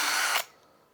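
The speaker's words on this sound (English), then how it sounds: "we're going to drill the holes" A power drill bores into a piece of wood with a loud, close whine for under half a second, then stops abruptly and leaves quiet room tone.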